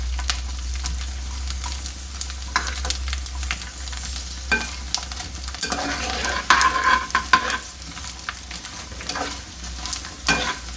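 Edible gum (gond) roasting in a pan as it puffs up, with a utensil stirring and scraping in repeated bursts over a soft steady sizzle, no talking.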